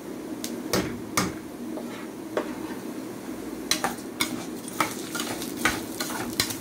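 Rice frying in a pan with julienned onion and crushed garlic, a constant sizzle broken by sharp metallic clacks of a spoon scraping and knocking the pan, close and fairly loud, with nobody speaking.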